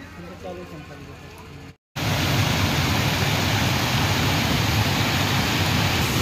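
Heavy rain at night in the Sunabeda sanctuary area, a dense, loud, steady roar that starts abruptly after a brief gap and continues unbroken, following a stretch of quieter background.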